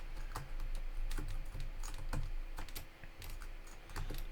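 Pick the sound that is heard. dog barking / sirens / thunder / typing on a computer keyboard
typing on a computer keyboard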